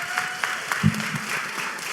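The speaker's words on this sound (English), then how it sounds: "Y'all clap it up for her." Applause from an audience at a tech careers talk, a soft, diffuse patter of many hands with a low voice murmuring through it and a couple of louder thumps.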